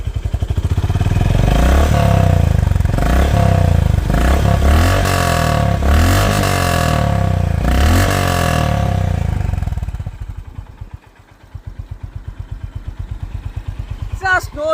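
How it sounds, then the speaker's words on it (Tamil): A Honda Hyness CB350 motorcycle revs repeatedly with a deep exhaust note, rising and falling in several sharp bursts, then settles into a loud, steady, thumping idle close by. "எக்ஸாஸ்ட் நோட்டு செம்மையா இருக்குங்க கேட்கறதுக்கு"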